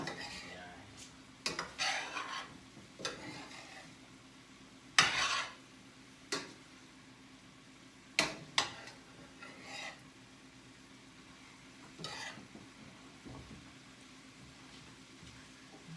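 Chicken stir fry cooking in a wide stainless steel pan: intermittent clinks and scrapes of a utensil against the metal over a faint sizzle, with sharp knocks scattered irregularly and no talking.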